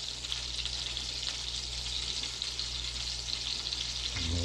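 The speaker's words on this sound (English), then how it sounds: "Sizzling going on over there. It sounds like it's about ready." Steady, continuous sizzling of pickerel fish and burger buns frying in a pan outdoors, close and fairly loud, with a low hum underneath and no talking.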